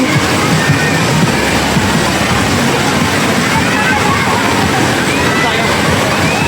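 Strong river water rushes and sloshes continuously at Tala River Park in Cavite, a dense, loud wash of flow filling the whole clip with voices faintly mixed in.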